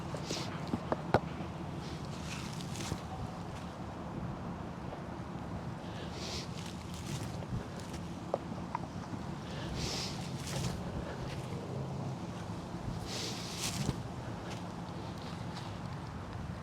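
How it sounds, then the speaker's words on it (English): A steady headwind buffets the microphone on an outdoor disc golf course, a continuous rushing roar with faint gusts and occasional small knocks, no talking. "I'm putting into a headwind."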